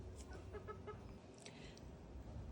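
Two chickens cluck at a campsite on a homestead in Australia, several short, quiet clucks and squawks over a low background rumble, no talking.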